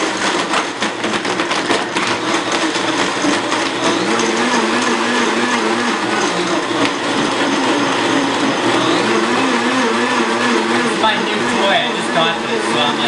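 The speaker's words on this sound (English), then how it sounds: "we're going to use Adam's Super Blend Tech blender. Set to smoothie." A Super Blend Tech blender runs on its smoothie setting, crushing ice and blending in a steady, loud, close whir that lasts throughout while a person speaks over it.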